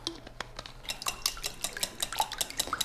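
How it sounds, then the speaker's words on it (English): Whisk or utensil beating eggs, coconut oil and vanilla in a bowl, a quick run of close, bright clinks and scrapes against the bowl, steady and fairly quiet, with no talking. "In a separate bowl, beat together eggs, coconut oil, and vanilla."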